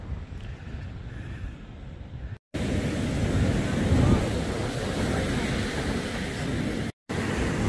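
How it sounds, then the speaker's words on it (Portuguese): Rough, agitated surf on a deserted beach beside a restinga preserve at Setiba, Guarapari, heard as a steady loud roar of waves with heavy wind buffeting the microphone, cut by two brief dropouts. "e o mar aqui é nervoso"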